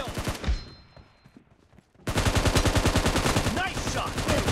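Gunfire in a team-based shooter video game: loud rapid automatic bursts that stop briefly into near quiet, then a sustained heavy barrage of fast repeated shots close by.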